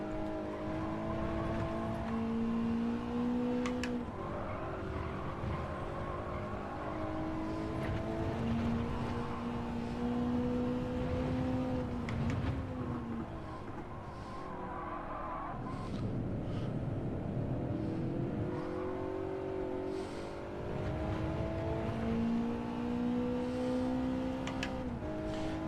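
Racing car engine in Gran Turismo 7 on a track during a time trial, a steady loud drone that rises and falls through gear shifts and throttle lifts into corners.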